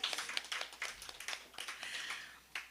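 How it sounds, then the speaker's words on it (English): Small audience at an International Women's Day evening event clapping for each other, a quiet, scattered patter of hand claps spread across a few seconds. "So let's give each other a clap."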